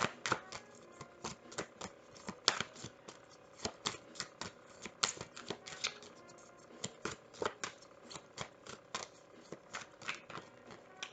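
Tarot cards being shuffled by hand, a quick series of crisp, close riffling flicks and taps in an uneven rhythm, soft but clear with no talking.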